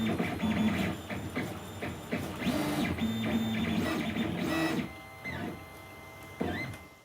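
A 3D printer at work making small parts for miniature trucks, with stepper motors giving whirring, buzzing bursts and short mechanical movements that start and stop.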